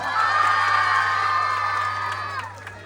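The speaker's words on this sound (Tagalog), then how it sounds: "magpalakpakan na may kasamang hiyawan!" A crowd at a Miss Gay beauty pageant cheers and shrieks loudly, with high whoops and screaming voices over a steady hum for a few seconds before fading.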